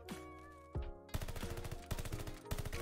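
Bursts of automatic gunfire in a first-person shooter game during ranked online play, several rapid volleys of loud, close shots with brief gaps between them.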